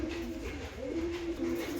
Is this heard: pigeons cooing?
yes